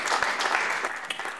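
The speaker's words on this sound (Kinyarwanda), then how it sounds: "Dukomere Imana yacu amashyi cyane" A church congregation claps for God during a worship service, a steady, dense wash of applause lasting a moment with no voices over it.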